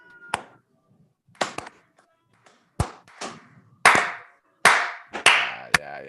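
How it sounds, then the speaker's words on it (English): A small group doing a slow clap, with about eight sharp, separate hand claps spaced well apart in the quiet, gradually building in loudness and speeding up slightly. "Can we slow clap?"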